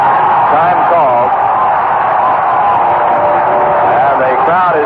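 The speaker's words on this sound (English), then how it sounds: "the crowd is cheering the final score on the scoreboard" A ballpark crowd at a Cleveland–Oakland baseball game cheers steadily, a dense continuous roar of many voices with whoops rising now and then, loud and unbroken throughout.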